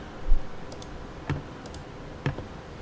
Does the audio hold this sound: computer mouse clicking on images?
yes